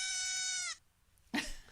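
A baby goat gives one long, quavering bleat up close. After a short pause a brief harsher sound follows.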